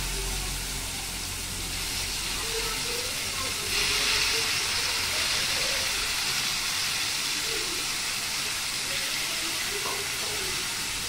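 Steady, loud hiss of boiled bitter gourd pieces sizzling in hot oil tempering, continuous throughout with a slight surge partway through, no talking.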